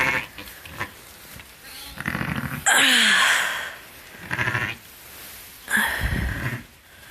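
Sheep and a newborn lamb bleat in a hay-bedded lambing pen during a birth, several loud wavering bleats coming close by in bursts with quieter shuffling between them.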